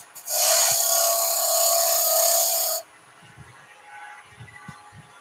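A skew chisel cutting a dovetail into sycamore spinning on a lathe, a loud, steady shearing hiss for about two and a half seconds that stops abruptly, leaving quiet workshop noise and soft knocks.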